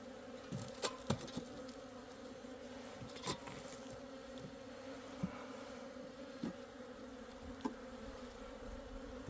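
Asian honeybees drone in a soft, continuous hum at an opened hive, with faint bursts of nearby wingbeats and small clicks, no voices.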